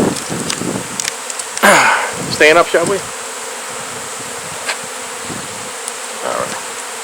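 Honey bees swarm and buzz from a large beehive being removed, a continuous close drone under a voice as he briefly speaks.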